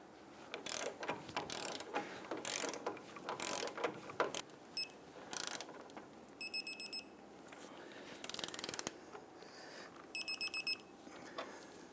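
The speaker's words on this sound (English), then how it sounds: "Go ahead and torque down our control arm bolts to 96 foot-pounds." Torque wrench tightening the lower control arm bolts on a 2000-2006 Toyota Tundra to 96 foot-pounds, a series of close ratchet clicks in bursts with sharp metallic pings from the wrench, no talk.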